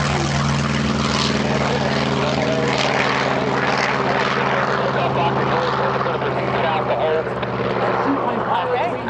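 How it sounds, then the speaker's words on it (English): Corsair propeller plane at a seaplane showcase, a loud continuous engine drone with steady low throb and broadband roar filling the whole stretch, with people talking underneath. "The propeller engine on the Corsair taking off."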